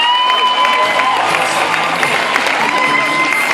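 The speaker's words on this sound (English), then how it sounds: "Give her a round of applause." Crowd applause and cheering fills a school hall at a leavers' assembly for Upholland High students, a steady dense wash of clapping with children's shouts mixed in, loud and continuous throughout.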